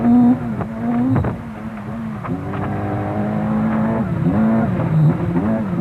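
A Vauxhall Nova GTE rally car drives a forest stage at Harewood, its engine loud and close, revving hard with rising and falling pitch through gear changes over about six seconds.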